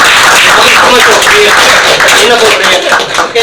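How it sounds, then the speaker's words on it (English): An audience at a pediatric dental gathering applauds with dense, steady clapping that fills the room, while voices chatter underneath throughout. "I think we should all applaud for her"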